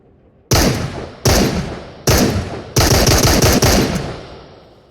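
Pistol gunshots in the VR game Into the Radius: five loud, sharp reports at close range, spaced roughly evenly, each with a short echoing decay and no talking between them.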